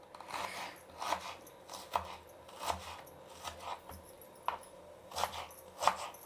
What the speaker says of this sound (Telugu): పెద్ద సైజు ఒక ఎర్రగడ్డ కోస్తున్నానండి